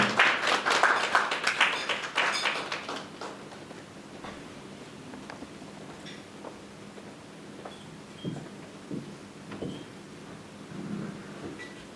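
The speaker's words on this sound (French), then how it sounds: "Sous vos applaudissements" Applause from an audience at a meeting between the CNAM and bankers in Côte d'Ivoire, loud and dense at first, then thinning to scattered claps and faint room noise.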